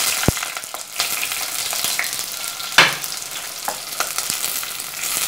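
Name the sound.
onions, curry leaves and green chilies frying in hot oil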